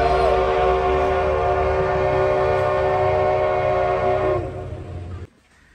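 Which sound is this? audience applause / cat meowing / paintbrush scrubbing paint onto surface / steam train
steam train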